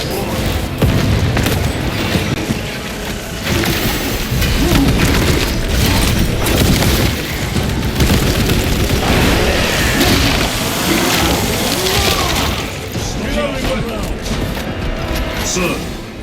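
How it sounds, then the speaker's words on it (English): Frag grenade blast and heavy combat din in Warhammer 40,000: Space Marine 2, a loud, continuous rumbling wash of booms and clanking mechanisms, with voices talking through it. "Frag grenade deployed."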